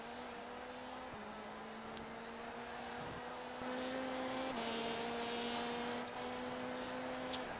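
A VW Beetle Lite rallycross car in iRacing at Legacy Daytona rallycross holds a steady droning engine note, shifting pitch at gear changes, with a faint tick or two and no talking.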